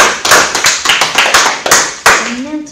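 A middle-school class in France claps for a student after her presentation: a short, loose burst of a dozen or so sharp, close handclaps that thins out, with a voice starting at the end.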